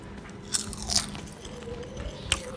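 Close-up crunching as broccoli chips are bitten and chewed, a few sharp crackly bites spaced apart over soft chewing.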